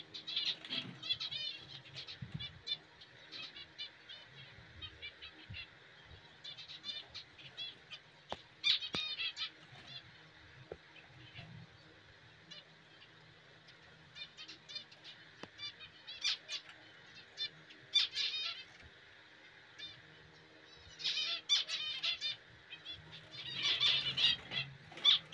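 Pet pigeons and finches in an aviary flap their wings in repeated fluttering bursts, mixed with high chirps and squeaks, fairly close but quiet overall.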